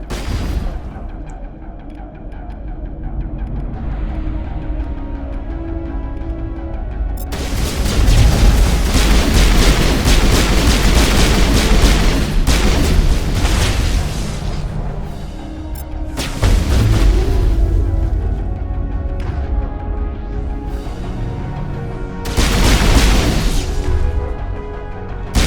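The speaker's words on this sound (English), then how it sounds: "Rockets." Rocket explosions in the video game Mass Effect Legendary Edition: a string of loud, booming blasts, several close together with long rumbling tails, then two more sharp detonations later, with no talk over them.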